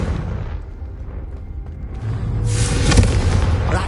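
A Confringo fire spell blasts in the Hogwarts Legacy video game, heard as a deep, rumbling boom with a low roar, then a brighter crackling burst that rises toward the end, loud and close.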